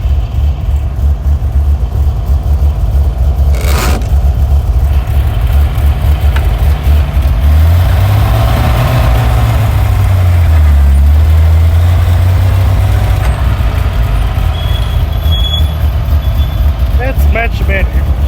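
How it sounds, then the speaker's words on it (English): A 1929 Buick engine idles with a loud, steady low rumble close by, its pitch shifting briefly midway. Talking occurs over it. "Okay, the Buick has started."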